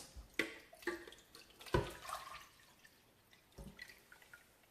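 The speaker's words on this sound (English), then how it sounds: "I'm going to pour the rest of the juice into my blender so that I can get everything out." Juice for Hausa koko, a millet porridge, splashes and drips into a blender in a few separate wet spurts, close and moderately loud, with quieter trickles between.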